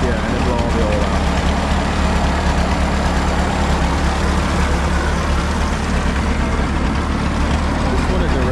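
Engine of a 1951 Cletrac Oliver HG42 crawler dozer running steadily, a loud, continuous low rumble that holds throughout without a break, close by.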